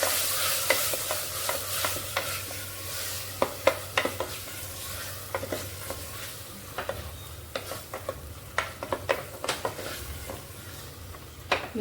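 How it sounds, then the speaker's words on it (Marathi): Soaked black-eyed peas being stirred into a sizzling tempering with coriander in a pan for a Marathi usal, a spoon scraping in irregular close taps over a steady low sizzle, no voices. "तिला चांगल्यापैकी मिक्स करून घेऊ आपण."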